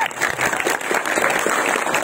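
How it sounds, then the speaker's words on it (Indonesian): An audience applauds steadily for about two seconds after a speaker at a Purwakarta district event wraps up. The clapping is dense, with faint voices mixed in. "Tepuk tangan."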